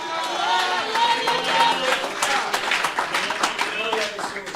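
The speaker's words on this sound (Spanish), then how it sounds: "Puede darle un aplauso a Cristo." Church congregation clapping together in sustained, dense applause, loud and steady throughout, with voices and cheers mixed in the crowd noise.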